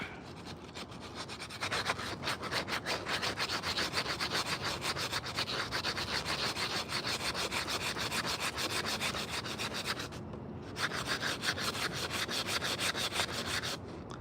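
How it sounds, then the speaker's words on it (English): Steady, rhythmic rasping of sandpaper rubbing an old piece of carved cedar shaped into a spoon, close and continuous, with one brief pause partway through before the strokes resume. "You start sanding it"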